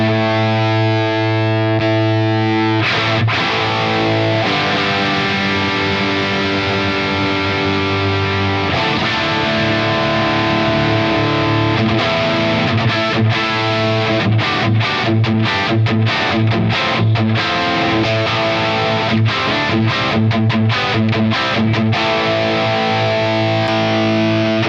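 Electric guitar played through a Friedman IR-J Jake E Lee signature valve preamp pedal with the gain control engaged, giving thick, saturated distorted chords and riffs that ring loud and steady for the whole stretch, with no talking.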